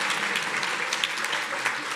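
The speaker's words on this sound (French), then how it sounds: "On peut l'applaudir." Audience applause at a university science-communication contest final, honoring a jury member: a brief, dense, steady patter of many clapping hands with no voices.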